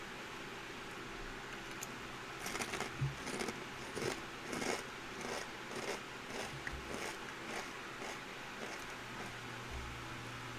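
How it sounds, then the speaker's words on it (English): Snack food crunched while eating, a series of irregular crisp bites and chews close to the microphone over steady background game noise. "I hope my crunching isn't too loud,"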